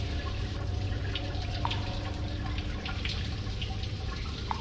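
Shower water pours steadily in the game Deceived of Joy, an even close hiss of spray with occasional drip-like splashes standing out, unchanging throughout and with nobody speaking.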